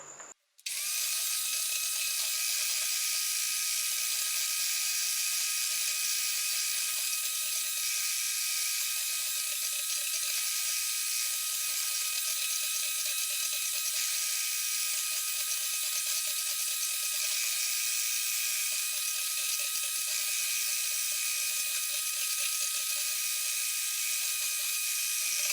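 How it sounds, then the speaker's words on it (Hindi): Electric hand beater whisking eggs with sugar for a vanilla sponge cake, a continuous high-pitched motor whine running steadily and loudly close by after a brief start, with no talk. "एक एक चम्मच हम चीनी डालते जाएंगे और बीट करते जाएंगे,"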